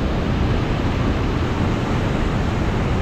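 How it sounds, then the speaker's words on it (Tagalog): Churning waves and a strong current at a dam, a dense, continuous roar of rushing water that stays loud and even with no talk. "Oh, kumukulo yung alon."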